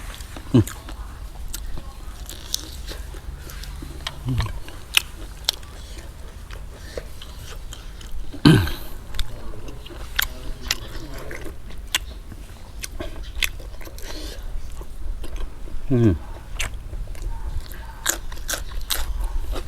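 Crunchy fresh and boiled vegetables eaten with grilled mackerel chili paste, giving repeated close bites and chewing crunches scattered among soft, quiet speech.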